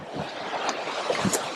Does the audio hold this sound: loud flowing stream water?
yes